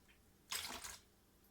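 Nine ounces of distilled water being poured for cold process soap making, a brief, soft splash lasting about half a second before falling quiet.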